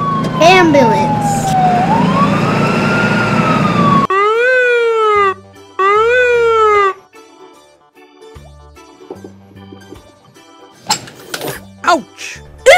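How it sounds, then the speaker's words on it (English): Toy or cartoon ambulance siren, a loud electronic wailing tone sweeping up and down in bursts amid a children's vehicle cartoon, with music notes and brief sound effects between. "ambulance."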